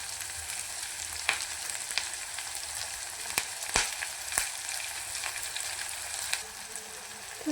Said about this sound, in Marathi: त्याच्यामध्ये आपण टोमॅटो आणि कढीपत्ता टाकून हेही चांगलं फ्राय करून घेऊया